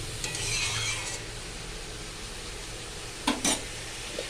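Banana stem (thor) being stirred in a pan, with soft scraping and a faint sizzle early on, then quiet, followed by two short sharp utensil clinks near the end.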